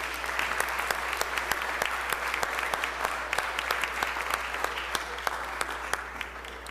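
Audience on a state House floor claps in a round of applause, crisp individual claps standing out over a steady dense wash, with a low constant hum underneath.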